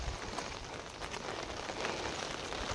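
Steady rain falls on a green farm field planted with crops, a dense, even hiss of drops throughout, close and moderately loud, with no voices.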